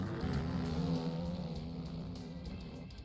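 250cc motocross bikes racing at Loretta Lynn's National Championship, a loud, close engine drone with rising and falling revs that sustains for a few seconds, with no talking.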